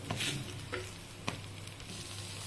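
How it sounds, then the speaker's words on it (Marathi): Stuffed cheese masala pav sizzles as it is flipped and roasted on a pan, a soft, steady frying hiss broken by a few light taps and scrapes, with no talking. "आपण हे थोडे पलटून घेऊया दुसऱ्या साईडने पण चांगले भाजून घेऊया"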